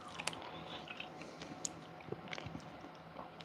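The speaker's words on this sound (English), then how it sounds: "I'll fucking chew my coffee if I want to." Coffee grounds chewed in the mouth, giving soft wet squishing and crunching bites in a quiet, close, irregular series with no talk.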